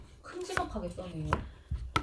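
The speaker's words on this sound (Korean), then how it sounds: "이렇게 썰어서 깍둑썰기 모양으로 썰어주세요" A knife chops old potatoes into large cubes on a cutting board with a few crisp, separate thuds. Someone talks over the cutting.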